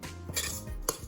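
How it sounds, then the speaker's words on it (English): A fork clinks and scrapes against a bowl while mixing ingredients, a few quick metallic taps and stirs close up with no talking. "just use a fork and just kind of incorporate them"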